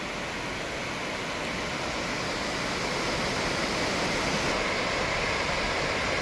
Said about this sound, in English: here is Middle Lewis River Falls.